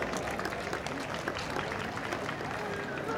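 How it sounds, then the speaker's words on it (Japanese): Dense, continuous clapping from a crowd at a Chiba prefectural high school athletics meet fills the space, with a hubbub of voices mixed in, as girls' heptathlon 800m runners are introduced. "こちらの選手にも大きな拍手をお願いします。"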